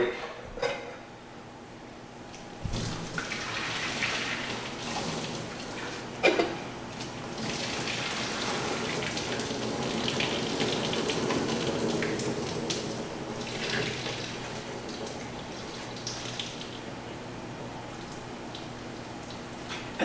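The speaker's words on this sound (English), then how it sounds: "So the noodles are done now. I'm going to drain the water here" Cooked noodles for a gouda mac and cheese are drained into a sink, with water gushing and splashing steadily alongside a few sharp clanks of pot and metal.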